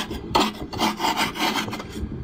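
Rough, rasping scrapes rub repeatedly across ice in freezing Texas weather, sounding like shaved ice being made: close, gritty strokes in an uneven rhythm with no voices.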